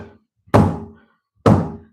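Two heavy hammer blows land about a second apart, dull and thudding, close up with brief ringing decay after each.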